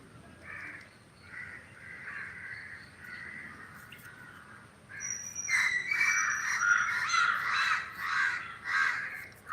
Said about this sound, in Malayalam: കാക്ക ശബ്ദമുണ്ടാക്കുന്നു